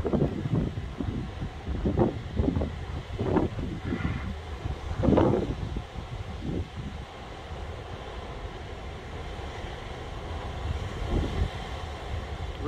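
Wind at the Pointe du Souffleur sea cliffs near Anse-Bertrand, Guadeloupe, buffeting the microphone in heavy rumbling gusts that are strongest early on, then easing to a steadier low roar.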